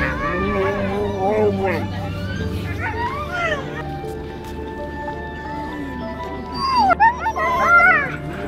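Sled dogs, Siberian Huskies and Alaskan Malamutes, howl and yip together in wavering, overlapping cries, close and fairly loud, with a burst of sharper yelps near the end and some talk in the background.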